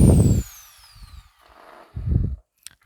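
An electric drill whines at high speed, slowly winding down with a descending tone, with short bursts of motor noise at low volume and no talk.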